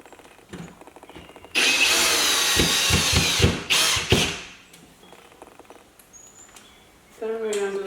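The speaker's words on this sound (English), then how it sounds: "this drill is magnetic" A magnetic drill runs in a long loud burst, stops, then gives a couple of shorter bursts and a final run, with clicks and handling noises between, indoors during a DIY vanity mirror build.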